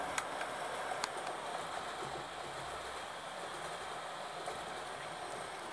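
An intercity train with a control car rumbles steadily through a German station at a distance, with a broad hiss of wheels on rails and a few faint clicks throughout.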